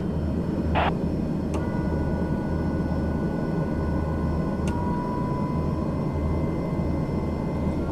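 A steady low engine and propeller drone from a North American Rockwell OV-10 Bronco sitting on the runway before takeoff, constant and moderately loud with faint tonal whines and a couple of brief clicks.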